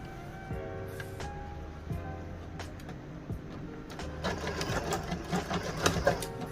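A sewing machine stitches a white invisible zipper, starting and stopping in short runs of rapid mechanical whirring, then picking up into a steadier, louder stitching burst at the end.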